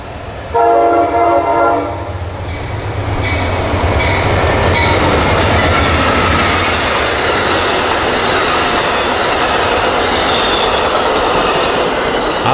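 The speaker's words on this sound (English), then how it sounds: "Amtrak 19, Washington to New Orleans, rolling down toward its Atlanta stop." Amtrak 19, a Washington to New Orleans passenger train, passes near Atlanta: a loud horn blast opens, then a steady roar of rolling wheels with clacking and squealing continues close by.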